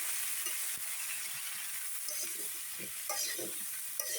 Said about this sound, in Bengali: এই যে আলু আর কপি এখন কড়াইয়ে দিয়ে দিবে।